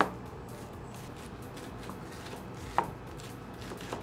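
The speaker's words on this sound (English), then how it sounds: "we're gonna go ahead and finish chopping up this cabbage" A knife chops cabbage on a board in quick, dense, soft cuts throughout, with one sharper knock partway through, close and fairly quiet.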